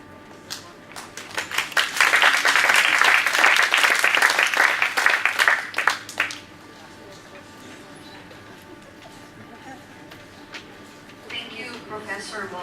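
Warm applause from a lecture audience at the close of a talk by a professor, dense clapping building from scattered claps and holding steady for several seconds before fading out, with quiet room tone and faint talk afterward.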